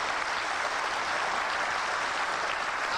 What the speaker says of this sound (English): And I think they're worthy of your applause tonight.